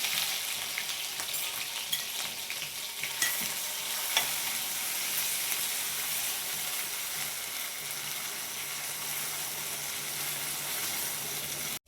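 Ground spice paste, freshly pounded on a grinding stone, poured into hot oil in a pan over a low flame for potol chachchari, hissing and sizzling steadily and loudly throughout with occasional stirring scrapes, no voices.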